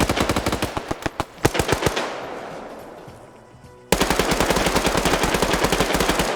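Sustained automatic gunfire in Arma 3 during a PvP tournament match, rapid loud bursts of close shots, a brief lull with trailing reverb, then another dense continuous burst.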